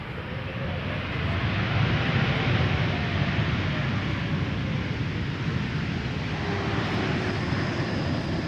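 A JetBlue Airbus A321neo airliner landing at Amsterdam Schiphol gives off a loud, steady broadband jet engine roar that stays fairly constant throughout, heard alone without speech.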